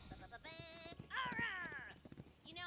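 A horse in the video game Tiny Tina's Wonderlands gives a drawn-out whinny in the middle, alongside hoof clatter, with people talking over it.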